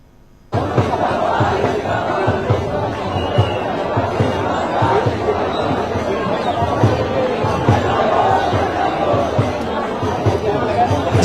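A large crowd at a Congress protest rally roars and chatters continuously and loudly, a dense wall of many voices that swells in waves with no single speaker standing out.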